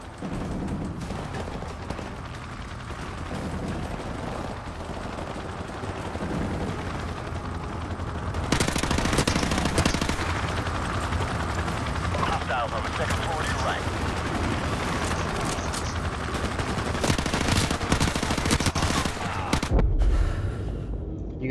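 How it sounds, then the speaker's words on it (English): Gunfire in Call of Duty Modern Warfare Remastered crackles as dense, sustained bursts over a busy game soundscape, growing louder and fuller partway through before a short drop near the end. "I was shooting at him and I thought he died."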